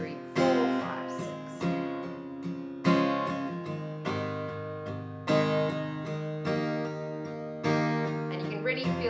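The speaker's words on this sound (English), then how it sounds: "you're going to strum a little bit harder just to drive the song forward." Acoustic guitar down strums ring out in a steady pattern of about eight chords, each strike followed by sustained ringing, played close and at moderate volume.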